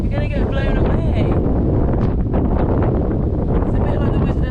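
Strong wind buffets a boat at anchor, a loud constant roar of gusts hitting the microphone, with indistinct voices partly audible beneath it.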